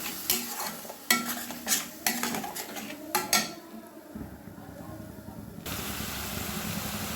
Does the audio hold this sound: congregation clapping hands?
no